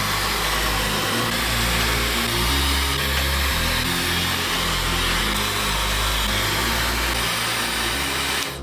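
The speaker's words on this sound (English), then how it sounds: "So I will be using the coldest setting on this hair dryer." A steady whirring hum of a hair dryer on its coldest setting blowing continuously, loud and unbroken throughout.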